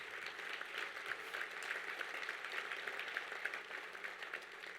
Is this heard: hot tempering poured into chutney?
no